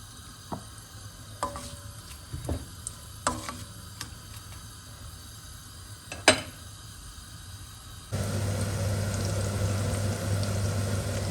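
Sliced onions going into hot oil in a pan while cooking daal mash with keema: a few sharp clinks and taps, then a sudden, steady, louder sizzle that continues to the end.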